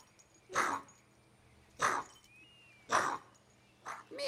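A dog gives four short, hoarse, seal-like barks, evenly spaced about a second apart, fairly close, with a faint squeak between them and no talking.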